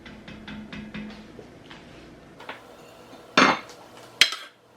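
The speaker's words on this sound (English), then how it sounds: "So now I'm just gonna transfer all of the tomatoes, everything that's in my Dutch oven, into this food processor" Roasted tomatoes scraped from a Dutch oven into a food processor: a run of light metallic spoon taps, then two sharp, louder clanks of metal on the pot near the end, close and without speech.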